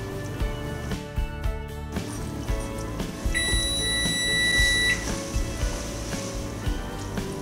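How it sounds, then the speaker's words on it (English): A kitchen timer beeps during fudge icing preparation, a bright electronic tone sounding for about a second and a half amid kitchen noise and background music. "now that the timer has gone off"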